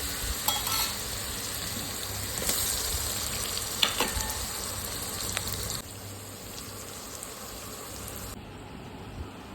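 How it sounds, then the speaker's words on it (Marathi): Boiled potato and green chili frying in peanut oil give a steady close sizzle with occasional stirring scrapes, louder at first and then easing to a softer crackle. "बटाटा ऑलरेडी मी शिजलेला घातला होता त्याच्यामध्ये दोन मिनटं फ्राय होऊन दिला"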